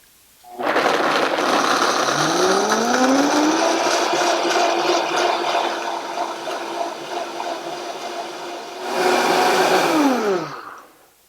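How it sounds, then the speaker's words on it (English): A blender whirs loudly and steadily through a thick mixture of nuts for vegan smoky pepper cheddar, its motor pitch climbing as it spins up, then dipping and rising again before shutting off. "I'm going to blend this all together thoroughly, very thoroughly, because I want to make sure all the nuts are blended in."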